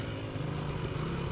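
A 500 dirt bike rides past on wooded single track, its engine droning loud and steady with a throaty, buzzing tone that holds close throughout the short pass.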